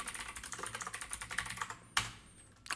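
Steady typing on a computer keyboard while installing Devuan Linux with a minimal XFCE setup, close and continuous with uneven key rhythm and a couple of sharper, louder keystrokes near the end; no speech.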